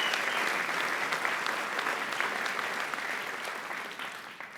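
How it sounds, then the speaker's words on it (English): Sustained applause from an audience at a U.S. Marine Corps birthday event, dense clapping heard close that fades slightly toward the end. "They put this together, really a rousing round of applause"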